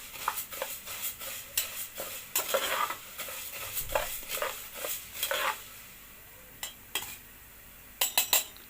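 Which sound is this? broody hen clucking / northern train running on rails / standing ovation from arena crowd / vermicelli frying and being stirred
vermicelli frying and being stirred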